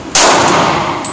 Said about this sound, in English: You're shooting low.